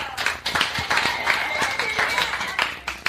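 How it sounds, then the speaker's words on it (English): Scattered clapping from a comedy club audience at a stand-up show, a few pairs of hands patting unevenly for about three seconds, with murmuring voices mixed in. "Just clap if you're at least 30."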